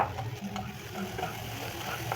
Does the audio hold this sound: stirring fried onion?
yes